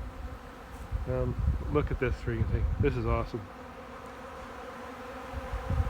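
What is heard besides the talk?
bees buzzing in a bee yard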